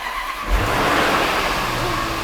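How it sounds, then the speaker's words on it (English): A damaged, rebuilt Range Rover 5.0 supercharged V8 engine cranks and catches within half a second, then settles into a loud, steady, close running rumble. "That's the sound of a V8."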